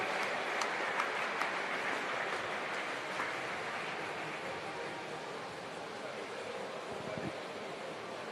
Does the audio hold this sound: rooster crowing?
no